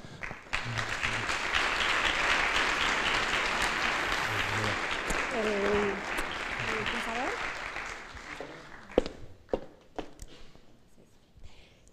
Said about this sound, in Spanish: Os pido por favor que le deis un fuerte aplauso.